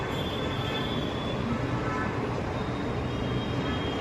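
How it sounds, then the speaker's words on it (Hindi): A metro train pulls away with a steady rumbling roar and a faint high whine of wheels, constant and fairly close throughout. "ये गाइस गई मेट्रो,"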